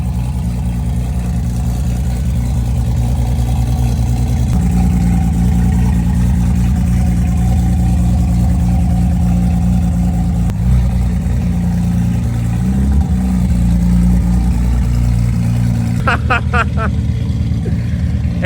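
A heavily modified 2000-horsepower Nissan GT-R engine runs loud and close, a deep burbling idle rising into revs, with a burst of higher rasping sounds near the end.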